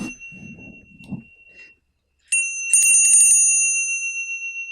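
A healing bell is struck once after a short stretch of quiet talk, ringing out with a bright, pure tone and a long, slowly fading sustain that carries on to the end.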